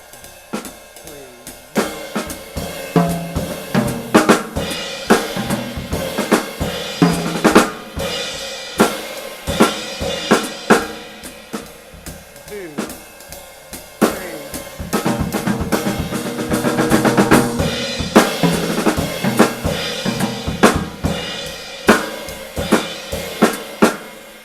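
A drum kit plays a steady groove, the bass drum thumping under sharp hits and cymbal wash, with a busier, louder stretch toward the end.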